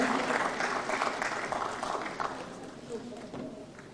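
Audience applause in a formal hall, steady and moderately loud for about four seconds, tapering slightly toward the end, with faint voices mixed in.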